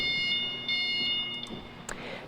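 Steady electronic beeping from a Heli LP-gas 10,000 lb forklift's reversing alarm, a repeated high tone pulsing at a regular rhythm over low mechanical rumble, fairly close.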